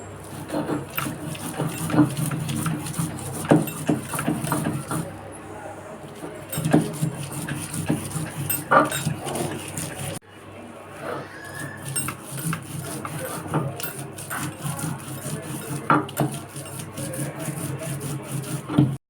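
Pointed gourd peels and shrimp are ground on a stone slab with a grinding stone, giving a continuous close, rhythmic scraping and rubbing with a brief pause midway.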